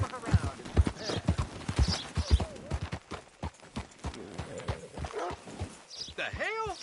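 Horse hooves clip-clop in the Red Dead Redemption 2 video game, a run of light, quick knocks partly buried under steady spoken dialogue.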